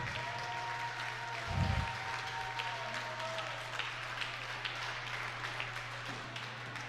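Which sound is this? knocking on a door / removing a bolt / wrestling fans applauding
wrestling fans applauding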